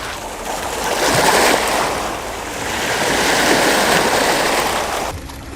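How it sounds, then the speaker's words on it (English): Waves from Tawas Bay wash continuously onto a beach at Tawas State Park, a broad rushing hiss swelling and easing, with no voices. "Is there anything better than the sound of waves?"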